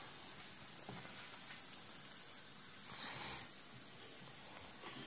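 Butter sizzles and bubbles steadily in a pan while being cooked down into ghee, a continuous close hiss with soft crackling and no talk.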